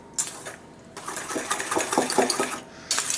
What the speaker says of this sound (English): you're gonna whisk all that together until it's nice and smooth